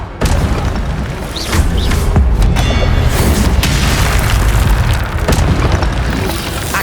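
Fire spell blasts and combat in the Hogwarts Legacy video game: a dense, loud run of booming bursts and crackling impacts, one after another, with no pause.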